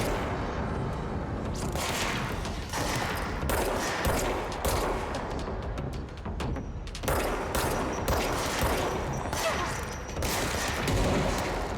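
Rapid gunfire in the video game Control, dense overlapping shots and bursts rattling almost continuously and loudly throughout.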